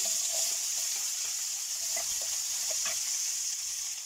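Onion frying in hot cooking oil, a steady bright sizzle held at an even level throughout, with a few faint clicks of a utensil against the pan.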